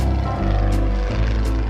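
An airplane drones steadily overhead, a loud continuous low engine and propeller hum with shifting pitch.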